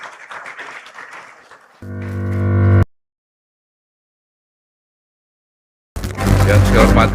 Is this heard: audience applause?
yes